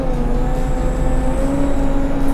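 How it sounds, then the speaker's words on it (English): An off-road vehicle that can also float accelerates with a steady engine drone, faint turbo whine and induction noise riding on top, close and sustained throughout with no speech. "Oh, you can hear a little turbo there."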